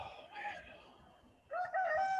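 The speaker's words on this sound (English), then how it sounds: "there's the rooster" A rooster crows faintly in the distance, a drawn-out call followed by a second, louder crow, over quiet background.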